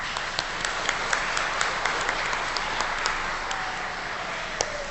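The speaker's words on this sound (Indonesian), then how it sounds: "Ucapan syukur dan terima kasih kita beri tepuk tangan kepada mereka" A church congregation applauds for the facilitators at an adult baptism Mass at Bintaro Jaya parish, a steady, fairly soft wash of clapping with scattered sharper claps throughout, no talking over it.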